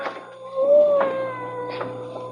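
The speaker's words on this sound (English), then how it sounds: "You mean you don't hear that cat?" Cat meowing as a radio drama sound effect, two or three drawn-out plaintive meows with a low steady hum beneath, close and clear with no talk.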